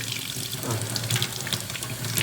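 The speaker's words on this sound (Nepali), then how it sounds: "पानी अब पहिला सानो आउँथ्यो, अहिले ठुलै पानी आउँछ" Water gushes strongly from a freshly cleaned kitchen tap into a sink, a steady, close rushing flow with no talk.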